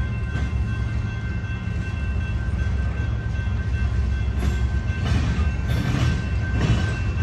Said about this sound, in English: so the train is finally moving to the crossing